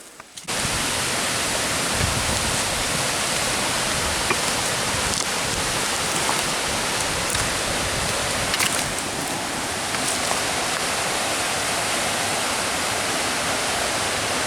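River water rushes steadily in a broad, loud, unbroken wash, close by and continuous with no voices over it.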